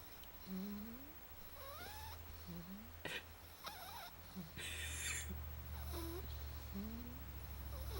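Close, rhythmic snoring from a sleeping female pet, with rasping inhales and whistly, rising nasal squeaks between breaths over a low steady hum.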